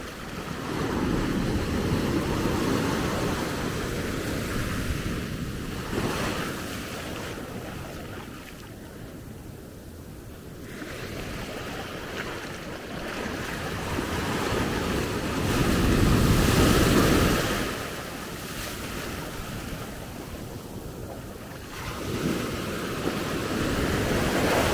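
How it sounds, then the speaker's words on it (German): Atlantic storm waves break and surge at Maspalomas on Gran Canaria, a close, steady roar of surf with swelling washes and wind buffeting the microphone. "Das ist schon ziemlich nahe, was ich hier mache mit den Wellen."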